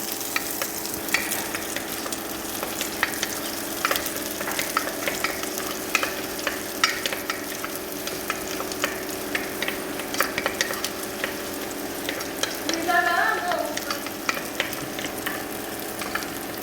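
Garlic fries in a pan for a Lenten soup, giving a steady, dense crackling sizzle that stays constant throughout with light spatters and no talking.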